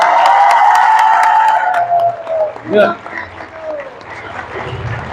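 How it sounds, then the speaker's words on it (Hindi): An audience at a Manipuri Lai Haraoba temple festival claps after a one-lakh rupee donation is announced; loud, steady applause fills the first few seconds, then fades into crowd murmur and talk. "जैसा मैंने 1 लाख बोला, आप लोग ताली मारने लगे"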